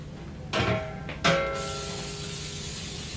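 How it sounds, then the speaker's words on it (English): Disinfectant is sprayed from a spray bottle onto the top and bottom of a large ultrasonic cleaner's cover. Two short, close spritzes come about three-quarters of a second apart over a steady background hum. "Spray the unit cover top and bottom to disinfect."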